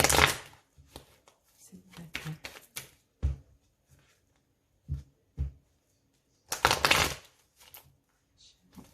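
A deck of tarot cards is shuffled and cut in a quiet room, with sharp riffling bursts, soft slaps and scattered taps separated by pauses.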